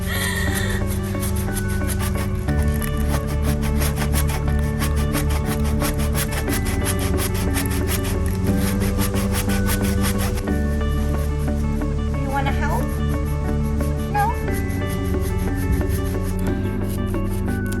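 Wood being sawn by hand for a DIY cherry tree spring decoration, heard as steady, continuous rasping strokes with a constant tonal hum running underneath.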